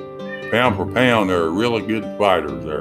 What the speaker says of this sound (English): I don't know if you can hear this cat in the background squalling around